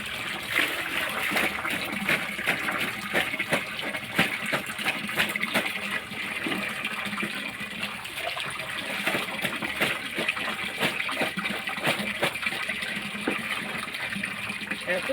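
Water gushing and pouring down hard, a continuous splashing rush with irregular spatters throughout, heard alongside some background activity.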